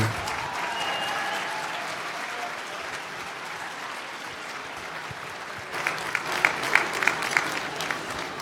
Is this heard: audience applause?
yes